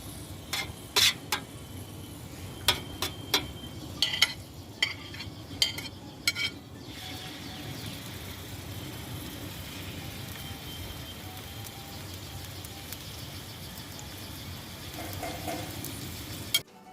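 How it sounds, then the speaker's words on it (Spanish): Cuttlefish and peeled shrimp fry in olive oil with salt for arròs del senyoret, a steady close sizzle running throughout, broken early on by sharp clinks and scrapes of a utensil against the pan. "mientras está sofriendo la sepia y las gambitas"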